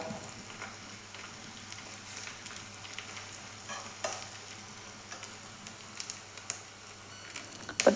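Grated coconut frying in hot coconut oil for a dhal curry gives a soft, continuous sizzle with occasional stirring scrapes, faint and close, with no talk.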